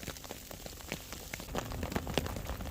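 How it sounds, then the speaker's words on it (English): A wintry mix of freezing rain and sleet falls on a mountain hammock campsite during a snow and ice storm, giving a dense, steady patter of scattered ticks and taps close by with no voices. "Yeah, it's still that wintry mix"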